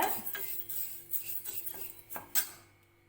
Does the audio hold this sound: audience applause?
no